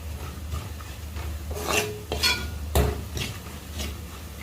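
Green apple pickle spice mix with asafoetida being stirred in a pan, several separate scraping strokes, close and fairly soft, over a low background hum.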